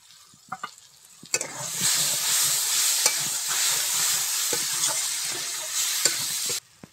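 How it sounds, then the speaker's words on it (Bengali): Malabar spinach curry sautéing in a pan, a steady bright sizzle with clinks of a spoon stirring and scraping, close and continuous, then cutting off at the end. "আর একটু কষে নেব ভালো করে।"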